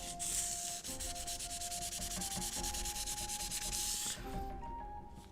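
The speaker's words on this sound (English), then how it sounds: "Sword polishing." Steady, close rubbing and scraping of a cloth polishing a sword blade during cleaning, a continuous dense friction sound for about four seconds that then stops abruptly, leaving quieter light handling.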